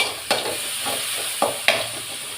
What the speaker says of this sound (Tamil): தக்காளி அப்படியே போட்டு வதக்க வேண்டியதுதான்